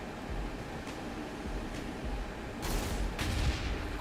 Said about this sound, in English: They're firing at the Hellions, okay.